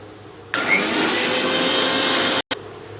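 A kitchen mixer grinder grinding herbs starts up with a loud, steady whirring roar, runs for about two seconds, stops briefly, then jolts back on.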